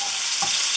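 Julienned bell pepper sizzles steadily in a frying pan or pot, a loud, continuous hiss with a small clink partway through and no talk.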